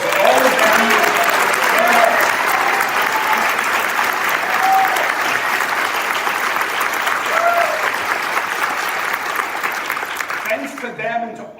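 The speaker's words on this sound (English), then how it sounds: "Let's have a round of applause for all of them." Audience at a Rotary Club meeting gives sustained applause, a dense, steady wash of clapping from a room full of people that fades near the end.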